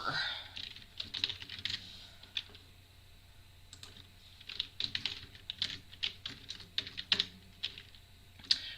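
Typing on a computer keyboard during a live destash sale, with bursts of quick, close key clicks separated by short pauses and a low steady background hum.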